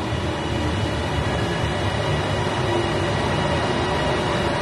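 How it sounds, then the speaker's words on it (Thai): Airport Rail Link train arriving at a Bangkok station bound for Suvarnabhumi, a steady rumbling rail roar with wheel and motor noise filling the platform, continuous and fairly loud with no talk. "ไฟมาฮอดแล้วเราก็เตรียมขึ้นรถไฟกันเลยขบวนนี้จะไปสุวรรณภูมิเนาะ"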